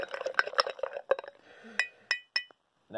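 A protein powder shake is stirred vigorously to break up clumps, giving a quick run of clinking, scraping taps against the container followed by a few sharper isolated clinks, close and fairly loud.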